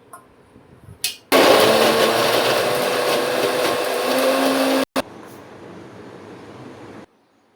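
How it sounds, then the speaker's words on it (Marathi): Electric mixer grinder blending cooled cooked onion and tomato into a paste at home, a loud steady whirring roar that starts abruptly after a short click, runs several seconds, then cuts out and drops to a quieter lingering hum. "आता मिक्सरला फिरून घेते"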